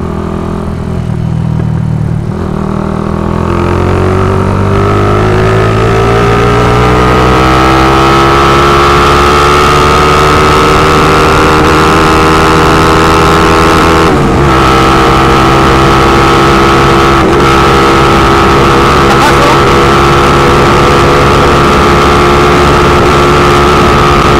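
A loaded Rusi motorcycle engine revs hard in third gear, a loud, continuous droning whine that climbs steadily in pitch over the first few seconds and then holds high and strained.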